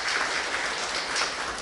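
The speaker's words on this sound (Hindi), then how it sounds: "आप सभी ब्राह्मण आत्माओं से मैं अवश्य चाहूँगा कि तालियों से विशाल भाई का स्वागत करें" Applause from an audience at a Brahma Kumaris gathering in Sirsa, welcoming a guest; a steady, dense wash of clapping that holds evenly for the whole short stretch, with no voices over it.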